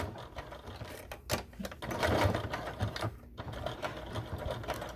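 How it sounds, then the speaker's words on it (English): A sewing machine runs steadily, stitching a rectangle onto the belt of a fanny pack. The motor hums in a continuous, close-up mechanical whir with brief pauses and changes in speed. "So all I'm doing is I'm sewing a rectangle right on top."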